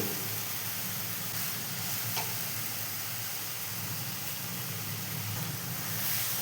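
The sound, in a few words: grated fresh coconut being sautéed in a pan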